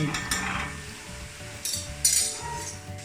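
Chopped onions sizzle steadily in a hot pan as they fry to brown for a Mangalorean postpartum medicine, with stirring scrapes and occasional metal clinks of a utensil against the pan, close and loud with no talk.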